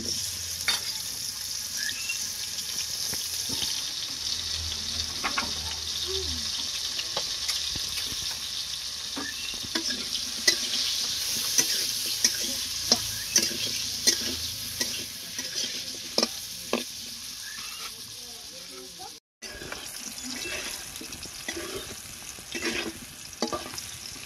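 Potatoes frying in oil with turmeric for a desi crab curry, a steady close sizzle with occasional stirring clicks and scrapes of a utensil in the pan, moderately loud, with no talking.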